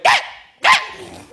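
Two sharp, loud barks from a tiny Yorkshire terrier, close by and alone, about half a second apart, each a bright yappy burst.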